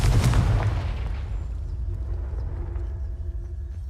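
A Confringo spell explosion in the Hogwarts Legacy video game, a sharp, loud blast that starts with a boom, then a rumbling tail slowly fading over several seconds.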